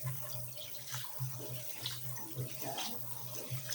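Rice being washed under a running tap, a steady faint stream of water with soft sloshing and swirling pulses as the grains are stirred, nearby and without speech.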